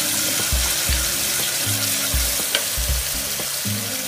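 Grated onion with cumin, pepper and masala sautéing in a pan, a steady loud sizzle with repeated scraping stir strokes and soft knocks running throughout, no voices.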